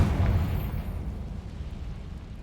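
A Confringo fire spell explodes in Hogwarts Legacy: one deep, rumbling burst hits loud at the start, then fades into a low, drawn-out roar.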